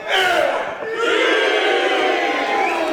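A large crowd at a Texas professional wrestling show cheers and shouts loudly and continuously, with a brief dip in volume before the roar swells again.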